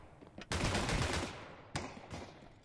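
Bursts of gunfire from a Valorant-style esports match, a long loud volley followed by a second shorter burst, with rattling echoes trailing off.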